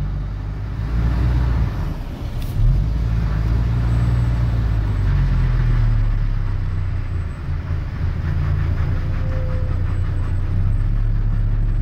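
A car engine revs loudly and continuously close by while the vehicle fails to move off, with a sustained low rumble that swells and eases without ever pulling away.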